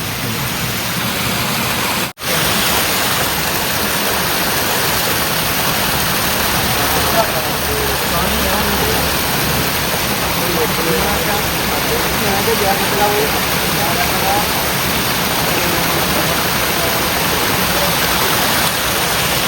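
Steady rushing water from a waterfall fills the scene, a continuous broadband wash, loud and close throughout.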